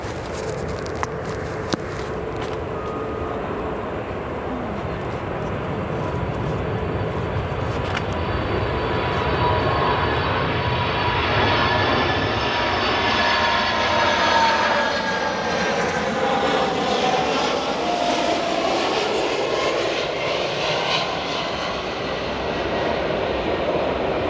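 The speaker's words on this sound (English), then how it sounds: "We'll go to an arriving 747. This is China Airlines Cargo, flight 5240, arriving in from Anchorage." A China Airlines Cargo Boeing 747 arriving from Anchorage at O'Hare Airport roars steadily as its jet engines pass close by, with the tone sweeping and shifting as the freighter moves past.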